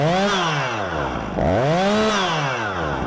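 A chainsaw revs loud and close, its engine pitch swooping up and down in repeated surges with no talking.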